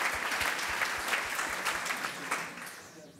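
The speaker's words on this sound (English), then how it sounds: "That's the part where you applaud, please." An audience at a startup founding panel of an Austrian entrepreneurship conference claps steadily for a few seconds, dense and even, then fades out.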